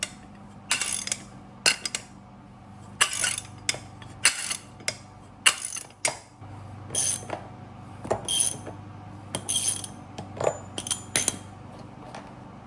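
A 34 mm 12-point socket on a ratchet works loose a piece attached to a BMW Supra drive shaft, giving repeated sharp metallic clicks and clinks in irregular bursts, close and fairly loud.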